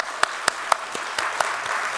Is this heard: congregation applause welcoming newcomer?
yes